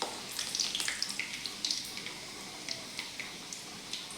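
Garlic frying in a pan for a chickpea-greens bhaji, a soft continuous sizzle with scattered light crackles and pops, fairly quiet and close, with no talking.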